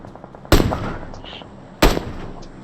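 Two loud, sharp gunshots in a shooting video game, about a second and a half apart, each with a short decaying tail over a low background hum.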